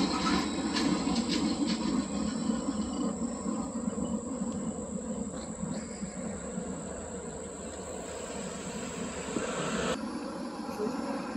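Steady rumbling and clatter of a Baltimore and Ohio Railroad boxcar rolling past close by, continuous for the whole stretch, with faint insect chirping high above.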